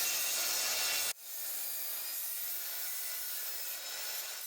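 Construction lumber boards are cut to size with a saw, producing a dense, steady rasping rub that runs continuously and close, broken only by a brief break in the stroke near the start, with no voices.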